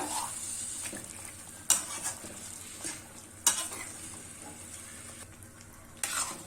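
Mutton fries in a kadai and is stirred, giving a soft continuous sizzle broken by a few sharp metallic scrapes of the spoon against the pan.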